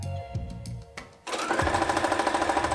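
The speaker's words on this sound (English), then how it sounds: "So now we want to sew the second bit" Sewing machine stitching quilt strips with a quarter-inch foot: after a few soft handling clicks, the motor starts up and runs steadily with a fast, even needle rhythm, close and clear.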